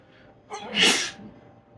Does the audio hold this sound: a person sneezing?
yes